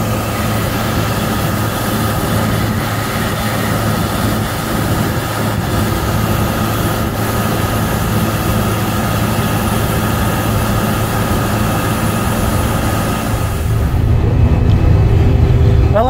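The engine of a TR99 combine harvester drones with a steady low rumble throughout, heard from inside the machine while it travels, loud and unbroken, growing slightly heavier near the end.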